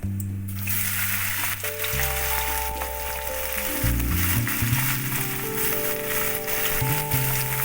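Taro stolons dropped into hot mustard oil with nigella seeds, frying with a continuous close sizzle and crackle throughout.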